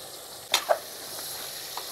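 Mutton pieces fry in a pan with a steady, close sizzling hiss, broken early by a couple of sharp pops. No one speaks.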